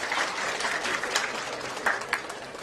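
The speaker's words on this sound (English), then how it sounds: "A big round of applause for Rashmi Mehta ma'am." An audience at a medical association youth conference applauds a surgeon taking the stage, a dense, steady wash of clapping heard from a slight distance with scattered sharper claps and no talk over it.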